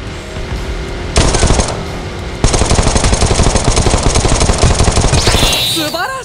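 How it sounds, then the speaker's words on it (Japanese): Rapid automatic gunfire from the mobile battle-royale game Knives Out, loud sustained bursts with a brief gap, then a second long rattling burst, ending with a short whistling effect. "銃声してるもん"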